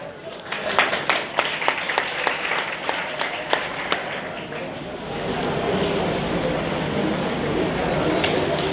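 Ceremony audience applauding during a NEET-2022 student felicitation: a run of sharp, separate claps for the first few seconds, then a steady dense wash of applause filling the room, with voices mixed in.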